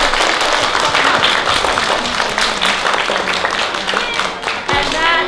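Audience clapping and cheering fills a hall at the close of a storytelling performance, a dense, steady burst of applause mixed with voices that stays loud throughout.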